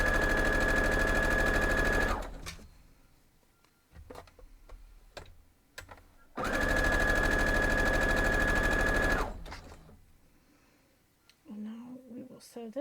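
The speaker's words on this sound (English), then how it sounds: "we're going to head on over and sew them up" Two long, loud, steady runs of a sewing machine stitching quilt block pieces, separated by a pause of clicks and handling, with a voice briefly speaking near the end.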